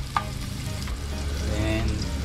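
Garlic frying in a pan for a Filipino snail and taro coconut-milk dish, a steady close sizzle with light stirring scrapes throughout.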